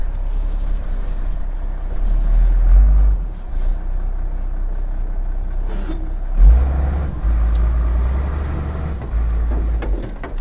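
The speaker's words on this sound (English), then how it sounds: "he is now backing the truck up" A truck reverses slowly across a farm field in winter. Its low engine rumble swells and eases as it moves in, with a brief hiss partway through. No one talks.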